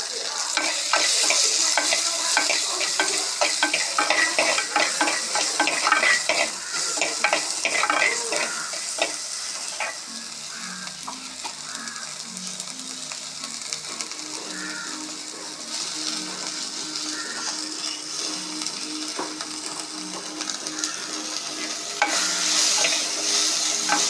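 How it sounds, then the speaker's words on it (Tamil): Shallots and big onions with dried red chillies frying in a pan for drumstick leaf soup, a continuous crackling sizzle with repeated scraping and stirring strokes of a spoon against the pan, no voices. "இப்போது சின்ன வெங்காயமும் பெரிய வெங்காயம் கட் பண்ணி வச்சதை போட்டுட்டோம்."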